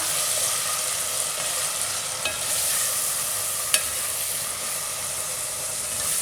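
Ingredients with salt being mixed in a cooking pot over medium heat for khichdi, giving a steady broadband sizzle with faint stirring scrapes and a couple of sharp clinks, no voices.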